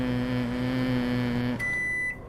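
A microwave oven hums steadily at close range, then its beep rings out clearly as the running drone cuts off.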